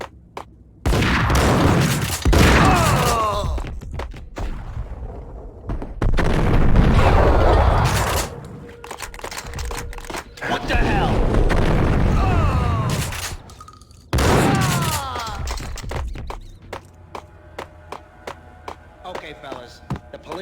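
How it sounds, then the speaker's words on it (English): Gunfire in the video game Max Payne comes in several loud bursts of shots, each a few seconds long, separated by quieter gaps with game sounds and voices in between. "Gun him down."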